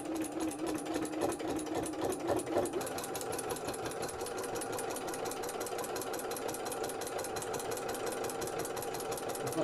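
A sewing machine runs slowly and steadily through thick layers of a journal bag with a lumpy seam, giving a continuous close whirring hum with a rapid rhythmic needle pulse throughout.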